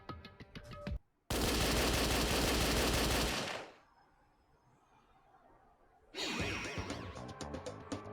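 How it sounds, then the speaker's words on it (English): Machine gun fire erupts from a ceiling-mounted surveillance camera in the Danganronpa video game, a loud dense burst lasting about two seconds that trails into quiet before game music and sounds return. "A gunshot from where?"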